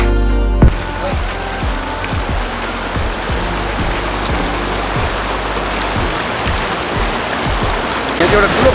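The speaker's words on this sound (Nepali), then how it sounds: "यो खोलाबाट चाहिँ हामीले क्रस गरेर अलिकति हामी अगाडि जानुपर्ने हुन्छ है।" A small stream beside morning rice paddies near Karyabinayak, Lalitpur rushes in a loud, continuous wash of water, with faint ticking splashes scattered through it and a sharp knock at the start.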